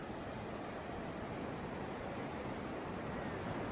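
Sea waves at the beach of Sofular village near Şile, Istanbul, a steady broadband wash of surf with wind noise, continuous and fairly quiet, with no talk over it.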